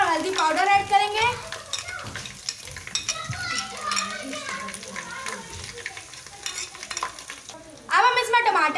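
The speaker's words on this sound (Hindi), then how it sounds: "अब हम अदरक लहसुन लाइट ब्राउन करेंगे" Ginger garlic paste fries in a pan for a tinday gosht curry, a soft sizzle with stirring scrapes under a person talking, while children's voices rise briefly at the start and end.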